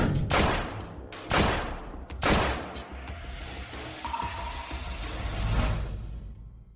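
Gunfire at target shooting practice, three loud sharp cracks about a second apart, close up, each trailing into a rumbling reverberant tail with a faint whoosh afterward.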